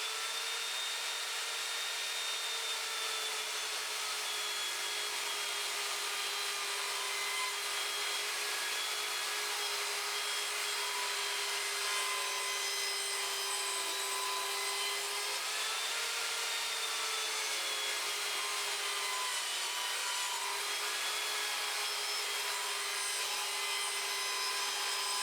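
An Evolution Fury 3 sliding mitre saw makes a bevel cut through wood, giving a steady, unbroken whine and rasp of the blade that holds at a fairly even level for about 25 seconds, with no voices.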